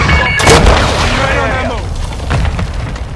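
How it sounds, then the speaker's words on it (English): Cruise missile strike in a PlayStation 4 shooter game, heard as heavy booming explosions that crack loudly and rumble over a few seconds, mixed with clipped radio-style voices. "Friendly cruise missile deployed."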